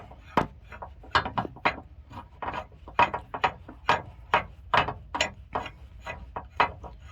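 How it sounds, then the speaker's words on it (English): A torsion key adjuster on a 1995 Chevy Silverado is cranked by hand, producing a steady run of sharp, close ratcheting clicks in quick bursts. The clicks keep an irregular rhythm and no one talks over them. "gotta keep cranking until it clears it"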